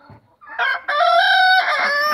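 Roosters crowing loudly and close during a fight, as turkeys attack a rooster among young fowl in a farmyard; harmonic crows with clucking, no talk.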